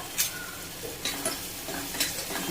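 Green chilli paste sautés in a pan, a steady close sizzle broken by about three brief scraping stirs at roughly one-second intervals.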